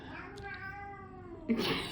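A pet kitten lets out one clear, close meow indoors beside someone crocheting a flower, followed by a brief rustling burst.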